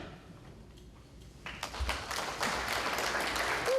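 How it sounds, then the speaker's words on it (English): Applause from the audience at a Wenham town meeting, with a quiet room suddenly swelling into dense, sustained clapping about halfway through and holding strong to the end. "I'll just ask everyone to refrain from applause or boos"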